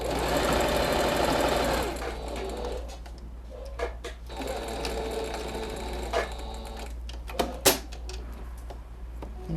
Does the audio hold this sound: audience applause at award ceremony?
no